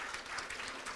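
An audience at a hospice and palliative care lecture claps for a speaker, a brief burst of moderately faint, evenly spread applause.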